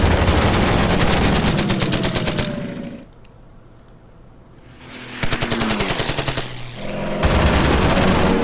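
Rapid machine-gun fire in the Order of Battle Winter War strategy game as aircraft attack a bomber, loud sustained bursts separated by a quieter lull, with one burst resuming after another.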